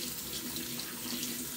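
Tap water runs steadily into a sink while a shaving brush is rinsed under it, a continuous close splashing rush with no talking.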